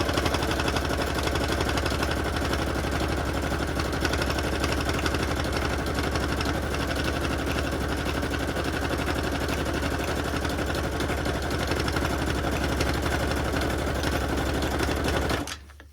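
A sewing machine stitching a journal cover runs in one steady, fast, even rhythm for about fifteen seconds, close up and alone, then stops abruptly.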